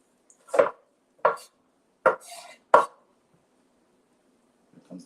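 A knife chops an onion on a board, four distinct sharp cuts spaced about a second apart, then a faint clatter after a pause, close and otherwise quiet.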